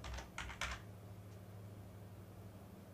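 A few quick keystrokes on a computer keyboard, close and clicky, grouped in a short burst at the start and followed by a faint fan hum.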